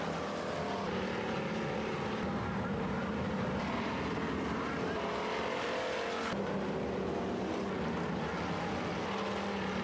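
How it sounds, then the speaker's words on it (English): Pepsi-Cola Pure Stock race cars rolling out onto the Springfield Raceway speedway, a continuous distant drone of several engines at a steady level. "next group of Pepsi-Cola Pure Stocks rolling out onto the speedway"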